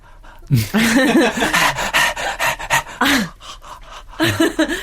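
A man imitates a panting dog with quick, rhythmic, voiced huffing breaths in short bursts, close and fairly loud, with brief pauses between bursts.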